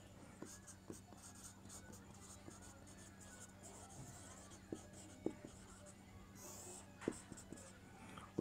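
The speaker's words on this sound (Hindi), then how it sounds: "यहीं पर लिख देते हैं हम" Chalk or marker writing on a board during an English grammar lesson: faint scratchy strokes and occasional taps, quiet, with a low hum and soft voice in the background.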